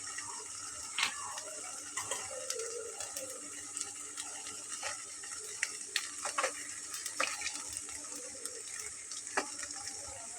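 An egg frying in a pan with a little oil for a flour snack, giving a faint, steady sizzle dotted with light utensil clicks and scrapes, with no talking.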